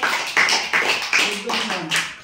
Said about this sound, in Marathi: विराजला टाळ्या वाजवा